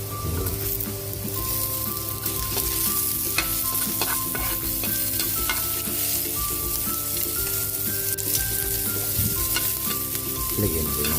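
Onion sautés in a pan with garlic already in it, producing a loud, continuous sizzle with scraping stirs throughout and steady background music.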